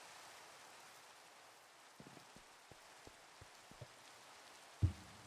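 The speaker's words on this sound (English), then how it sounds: "Let's sleep so it gets rid of the rain and the thunder and lightning." Rain falls in the Minecraft video game as a soft, even hiss of drops, faint and steady, with a few light ticks and one louder knock near the end.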